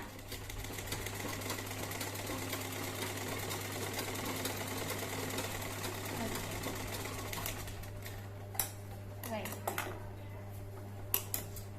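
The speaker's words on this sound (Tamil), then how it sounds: "ஒரு தையல் தான் போடுறேன்" A sewing machine whirs steadily while stitching a collar, with a constant low motor hum throughout. Toward the end the hum thins out, and a few light clicks and taps of handling are left.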